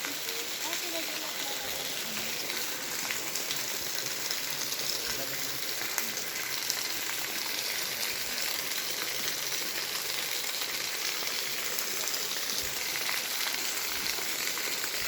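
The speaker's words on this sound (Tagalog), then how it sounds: "Ayan, dito yung sapa. Hindi pala ilog to." Constant rushing hiss of a mountain stream flowing over rocks near Mount Banahaw, dense and unbroken, with occasional faint voices underneath.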